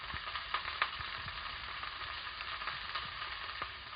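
Steaks sear in a hot pan with a steady, close sizzle and crackle, a few sharper pops and spatters rising above the constant frying hiss, no talking.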